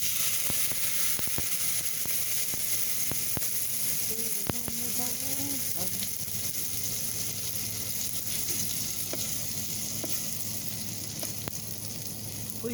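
Marinated steak sizzles in an Instant Pot set up on a truck, a steady loud frying hiss running throughout with a few faint clinks and brief tonal squeaks around the middle.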